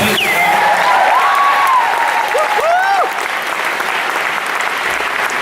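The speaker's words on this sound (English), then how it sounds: "clap it up for the poem for bringing that into the space" A crowd claps loudly and steadily for a spoken-word poem, a thick continuous roar of hands with a few whistles and cheers rising above it, easing slightly in the last seconds.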